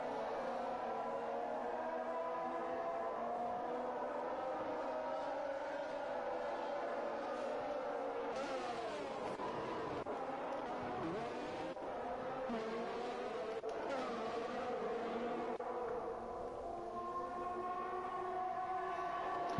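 In the F1 2021 video game, a line of Formula 1 race cars runs at the Bahrain circuit, with continuous high engine whines rising and falling as the cars pass, kept at a moderate distance.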